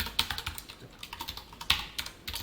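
Quick bursts of keystrokes on a computer keyboard as an operator is typed into Java code, an uneven run of close, crisp clicks with a couple of louder taps and no talking.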